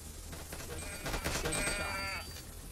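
In the hunting video game Dino Hunting 3D, a sheep lets out a short wavering bleat midway through, moderately loud against steady background game noise.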